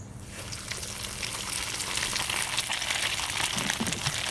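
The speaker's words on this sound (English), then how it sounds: "So let them pan fry." Cod fillets pan frying in hot oil, a steady broadband sizzle and crackle that grows a little louder over a few seconds, close and continuous with no talking.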